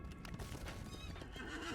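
A war steed horse in the video game Lord of the Rings Online neighs and whinnies, with clip-clop hoof sounds. The call is loud and close over a steady game backdrop, with no talking.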